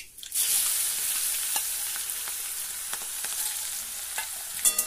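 Chopped garlic and green chili sizzle in hot oil with half a spoon of cumin for a fenugreek curry, a steady close frying hiss with faint stirring scrapes and no talking.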